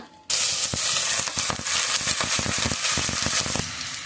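Onions hit hot oil and burst into a loud, steady sizzle that crackles and spits continuously after a sudden start, with brief stirring scrapes mixed in.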